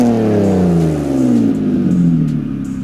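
A naturally aspirated 3.8 liter V6 in a Mitsubishi Eclipse GT sounds loud and close, a steady droning engine tone that slowly drops in pitch as it winds down, with no voices.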